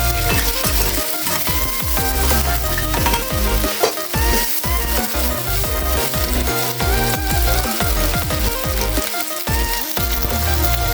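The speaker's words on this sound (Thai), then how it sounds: "แล้วก็หมูทอดที่เราเตรียมไว้นะครับผัดให้เข้ากันนิดหนึ่งนะครับ" Loud, busy stir-frying of tofu and fried pork in a wok: constant sizzling with repeated scraping and clattering of a spatula against metal, no voices.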